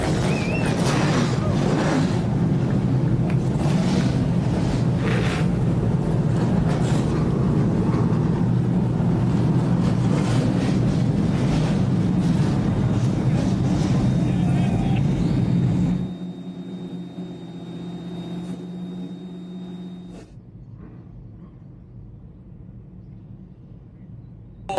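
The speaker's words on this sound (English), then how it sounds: "rumbling with that noise of these thunderous cars" Trans Am race cars at Lime Rock Park thunder off the start in a loud, dense roar of engines that drops abruptly to a fainter rumble as the field moves away.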